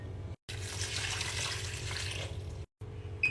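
Water poured into a cooking pot, a steady close splashing stream running almost continuously with two brief breaks and no talk.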